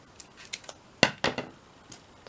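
Scissors snip through scrap paper in a handful of crisp, quiet cuts, with two sharper snips in the middle and lighter clicks around them, close by in a quiet room.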